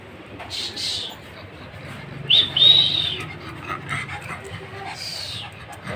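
Two pet dogs move about close by with light panting and a brief high whimper, while a person talks and coos to them.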